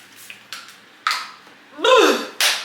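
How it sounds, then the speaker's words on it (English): A few sharp hissing sprays from a Sephora makeup setting spray bottle, close by, coming in short separate bursts with quiet gaps between them. "I go in with my Sephora makeup setting spray"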